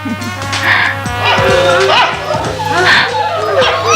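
Dogs bark and yelp repeatedly outside a bungalow, loud and close, with sharp barks and whimpering yips over a steady low hum, as though they are attacking someone.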